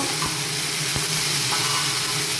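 Goat lungs frying with small fenugreek leaves for dhobba fry, giving a steady close sizzle with faint stirring clicks throughout and no talking.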